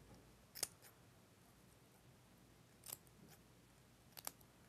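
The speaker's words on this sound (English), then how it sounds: "Give it a snip." Scissors snip excess material from a feather headband. Three short, faint, crisp cuts sound close by and well spaced, against a quiet background.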